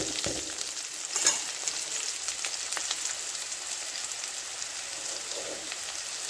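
Spices and asafoetida sautéing in ghee hiss and crackle continuously up close, a busy bright sizzle with a few sharper pops early on, with no one speaking.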